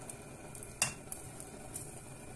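Courgettes coated in batter fry in oil with a soft, continuous sizzle. Scattered quiet clicks and scrapes from stirring or turning the pieces can be heard, and one sharper tap of utensils stands out. No one speaks.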